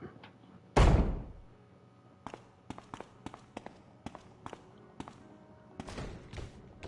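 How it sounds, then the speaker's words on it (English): Door banging in the video game Resident Evil 1 Remake: one heavy slam early on, then a string of sharp, irregular knocks and thuds of moderate loudness over a quiet background. "I hear a door banging"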